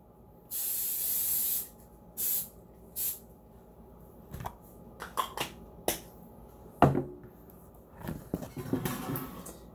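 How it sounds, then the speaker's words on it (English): Cooking spray hisses from an aerosol can into a loaf pan for taco meatloaf, one long burst then two shorter ones close up, followed by clatter and handling noises. "Now, you take the cooking spray."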